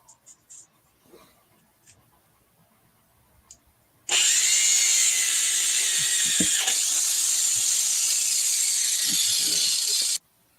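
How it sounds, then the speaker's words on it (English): A grinder runs continuously for about six seconds on a stained jacket, a loud high whine that starts abruptly and cuts off, after faint scattered handling noises. "Let's try using the Mr. Clean magic grinder, shall we?"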